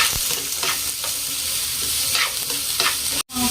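Finely chopped onion fries in a pan while being stirred, with a continuous loud sizzle broken by repeated scraping strokes of a spoon and a short dropout near the end.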